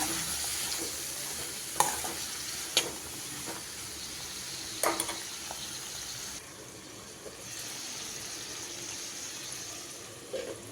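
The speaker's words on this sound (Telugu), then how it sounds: "టమోటా వేసుకున్నాక బీరకాయ ముక్కలు వేసుకోవాలి ఇప్పుడు ఇవన్నీ మగ్గించుకోవాలి" Ridge gourd pieces and tomato cook in a pan with a steady low sizzle, broken by a few sharp clicks and scrapes of stirring, with no talk.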